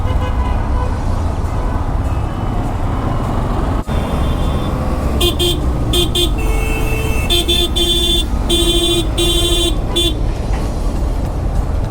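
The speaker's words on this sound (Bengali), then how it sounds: "ঢাকা শহরে চলাফেরা করতে গেলে অযথা হর্ন বাজাতে হয়" Vehicle horns honk in dense Dhaka city traffic: several short and longer toots sound in bursts over a constant roar of engines and road noise, heard from a moving motorcycle.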